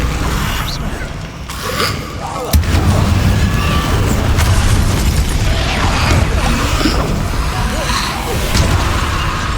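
Repeated Confringo fire-spell blasts in Hogwarts Legacy combat, loud booming impacts and whooshing bursts over a constant rumbling, chaotic battle din.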